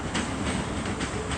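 A ScotRail class 385 electric train rumbles through Edinburgh Waverley station, a brief, steady, close roar of wheels and motors with no voices.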